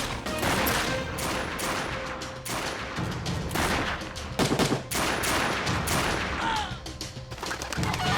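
Bursts of rapid gunfire crack over a busy, noisy action scene, with repeated sharp shots and loud clatter continuing throughout.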